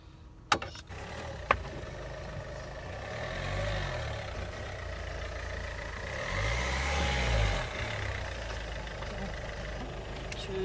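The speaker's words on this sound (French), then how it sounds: "Tu peux m'expliquer pourquoi la voiture marche sans batterie?" A car engine runs steadily, close by and moderately loud, with a couple of sharp clicks near the start and speech over parts of it.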